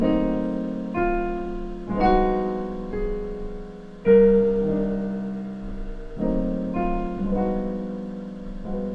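A sustained, dissonant jazz chord, a dominant chord with an added major seventh, rings out and is struck again several times, each attack decaying slowly, with no voices.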